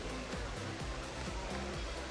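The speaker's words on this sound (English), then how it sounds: "You can see a waterfall." A waterfall in the theme park game Planet Coaster rushes steadily as a broad, continuous wash of falling water, moderately loud and unbroken, with low rhythmic pulses of music underneath.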